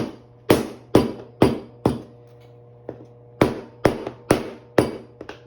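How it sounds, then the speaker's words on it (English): A rolling pin pounds rugelach dough on a counter in a series of sharp, heavy thumps, irregularly spaced with short pauses, close and loud. "Take your rolling pin and pound the crud out of it."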